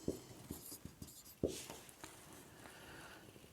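Chalk or marker writes on a board in a classroom physics lesson, a run of soft scratchy strokes and taps, close and fairly quiet with no voice over it.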